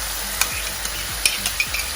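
Beef for a green peppercorn sauce sizzling in a frying pan, with a steady close hiss broken by a few light scraping stirs and taps of a utensil.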